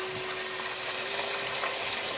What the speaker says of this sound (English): It's just frying the beef.